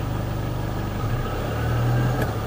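A Mitsubishi L200 pickup engine runs steadily after losing power with the injection warning light on, a medium, even drone close by, with no talking over it.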